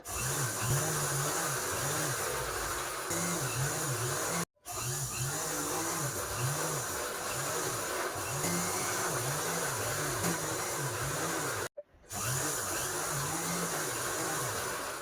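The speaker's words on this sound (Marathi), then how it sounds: "सरळ शिलाई मारून घेऊया" A sewing machine stitching a straight seam in cloth for a pata rumal, a loud continuous motor whir with a regular rhythmic needle cycle, stopping briefly twice.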